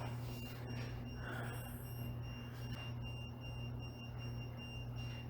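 An electronic device of the kind used on a paranormal investigation in an old hotel in Longview, Alberta sounds steady, insistent tones over a constant hum, with a few higher chirps in the first two seconds and no speech.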